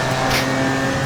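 A GT4 race car, a BMW M4 at Snetterton in a racing simulation, roars past with a loud sustained engine tone and a brief swell of whoosh as it goes by.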